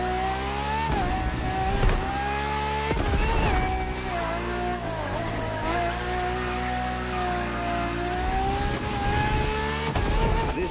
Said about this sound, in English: For this second lap, you'll be driving the